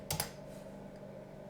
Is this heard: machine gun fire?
no